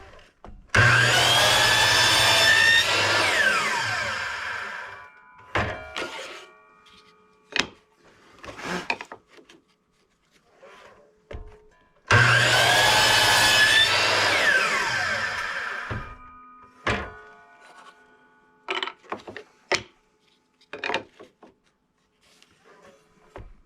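Sanding the edge of a wooden coaster: two long, loud bursts of abrasive power-tool whine, each a few seconds, separated by quieter clatter and handling knocks.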